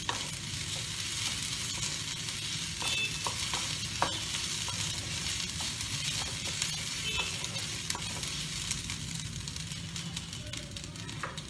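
Onion and ginger paste frying in a pan for chicken pie, a continuous close sizzle broken by repeated scraping strokes of a spatula as it is stirred, steady and moderately loud.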